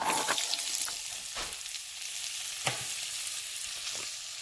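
Onions and sun-dried tomatoes frying in a pot give a soft, continuous sizzle with a few sharp clicks and taps from stirring, fairly close and steady, with no one talking.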